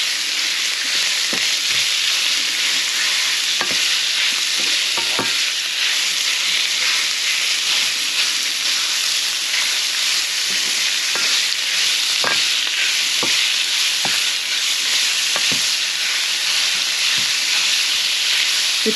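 Pork and garlic frying in a pan, a loud, steady sizzle with occasional clinks and scrapes of stirring, continuous and close with no voices.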